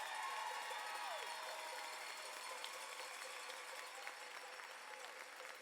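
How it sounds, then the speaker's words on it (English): Audience applause at a school district convocation, a steady, dense wash of many hands clapping at a fairly distant, even level for the whole stretch, with no voices rising above it. "One more round of applause for the people that keep our kids safe every day."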